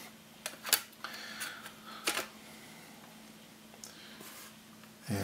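A Sony Vaio S Series laptop cover is pressed back into place, giving a few faint, sharp plastic clicks and snaps scattered across a quiet room with a low steady hum.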